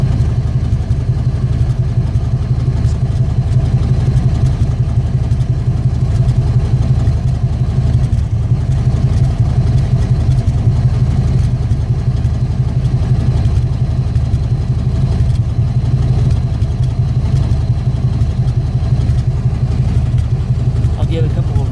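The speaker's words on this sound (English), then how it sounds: "here's what it sounds like underneath the truck" A 1982 Ford F150 pickup's engine idles, recorded from underneath the truck with its carburetor still needing adjustment. The steady loud low rumble and chug continue unchanged for over twenty seconds, close up, with no talk.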